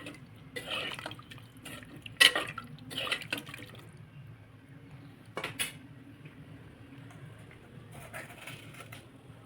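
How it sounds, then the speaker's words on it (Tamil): Faint splashes and clinks of liquid going into a pot, a few louder bursts among quiet kitchen clatter, with no voices. "லைட்டாக வந்து தண்ணி சேர்த்திக்கோங்க"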